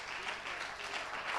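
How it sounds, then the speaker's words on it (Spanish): A church congregation claps during a Spanish-language worship service, a soft, distant, continuous patter of many hands lasting just over a second. "Un aplauso al Señor."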